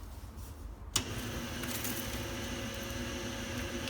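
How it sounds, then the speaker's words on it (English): Blowers on a truck-mounted wood gasifier switching on with a sudden onset, then a steady, loud whooshing airflow hum that holds constant to the end. "So now we will turn the blowers on."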